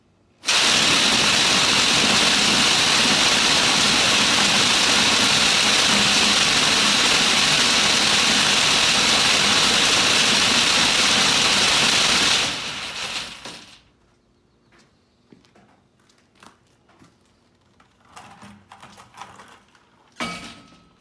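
A loud homemade biochar grinder roars steadily for about twelve seconds, then cuts off and winds down, leaving quiet clinks and faint handling noises.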